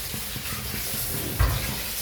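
Curry leaves hit a simmering buttermilk sardine curry, giving a steady close sizzle with a brief louder burst of crackle midway, with no voices.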